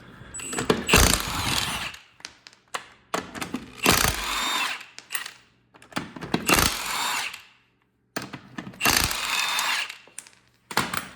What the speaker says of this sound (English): you're going to want to come in here, remove your lug nuts.